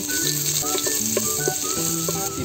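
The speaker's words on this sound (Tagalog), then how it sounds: "Magigisa na tayo." Ginger and garlic sautéing in a pan for Antique-style beef linahab, a steady close sizzle running the whole time with melodic tones playing over it, no talk.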